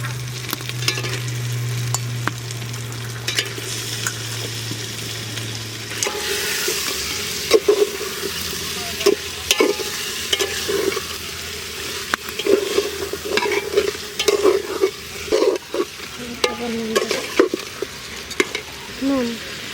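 Mutton pieces dropped into fried spice masala in a village-style handi sizzle loudly, with repeated stirring scrapes and clinks through the pan; a low steady hum runs early on, and faint voices drift in the background.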